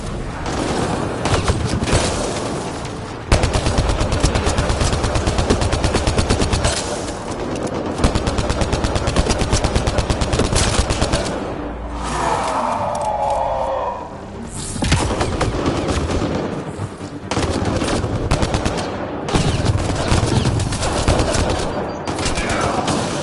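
Sustained automatic gunfire from Mass Effect Andromeda combat, loud and close, rattling in long bursts with short pauses and heavy booms, with no talk over it.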